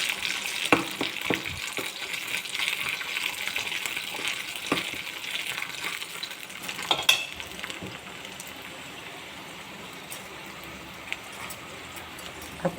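Cashews, raisins and almonds fry in hot oil in a pan for a South Indian curd rice, a steady soft sizzle with scattered crackles and stirring clicks, quieter in the later half.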